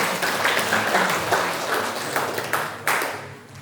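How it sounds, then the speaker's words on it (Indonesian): A church congregation claps together, a brisk patter of many hands that rises in bursts and then trails off near the end. "Tepuk tangan dong."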